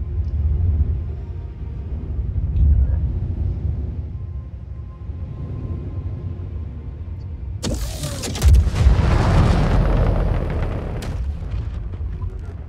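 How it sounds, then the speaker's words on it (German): An unguided S9 torpedo strikes an iceberg wall, a sudden loud impact followed by a long roaring, rumbling burst that slowly fades over low background rumble. "schlug der Torpedo erst hinten in der Wand ein"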